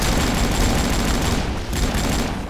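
Rapid, continuous gunfire fills a firefight in the online shooter game AvatarStar, loud and close, with a dense automatic barrage that briefly dips before resuming.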